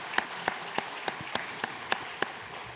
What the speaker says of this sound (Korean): 귀한 박수 부탁합니다